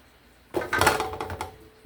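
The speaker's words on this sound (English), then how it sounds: "So let me pour all this food into this container." Leftover food is poured into a container in a home kitchen: a quiet pause, then a sudden close burst of clattering and scraping that trails off over about a second.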